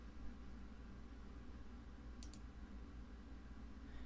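A single quiet double mouse click at a computer, close and crisp against a steady low hiss of room noise.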